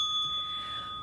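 A small bell rung as a test on a late-night talk show, one clear sustained ring that fades slowly over about a second, alone with no talk.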